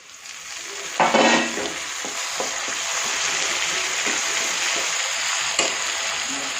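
Tomatoes for an onion tomato chutney hit a hot pan with a sudden loud sizzle, then keep up a steady frying crackle with occasional stirring scrapes close by.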